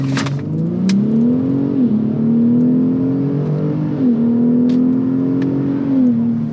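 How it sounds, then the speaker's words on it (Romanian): A 450-horsepower, 3-tonne Ford launches at full throttle in Sport mode, the pitch climbing steadily through the gears in a loud, sustained roar with brief dips at each shift. "Talpă frână, talpă accelerație, dă-i!"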